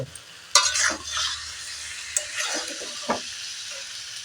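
Sour tamarind chutney simmers in a pot, with soft bubbling and stirring. A few sharp clinks and scrapes of the spoon against the pot stand out over a quiet background.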